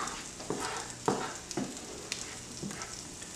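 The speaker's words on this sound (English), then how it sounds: "I'm going to melt this butter." A couple tablespoons of butter melting in a pan for shepherd's pie, a soft steady sizzle with a few quiet scrapes of a utensil at the edges, faint and close.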